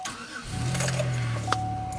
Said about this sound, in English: she starts like a champ after everything this car has been through